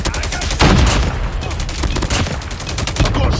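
Rapid automatic gunfire from a sentry gun on the Nuketown map of a shooter video game, a dense, loud burst of continuous shots with scattered additional fire, close and without talk.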